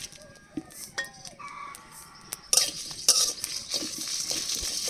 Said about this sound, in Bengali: হাফ চামচ ধনিয়া আর হাফ চামচ জিরা একসাথে ভেজে নেব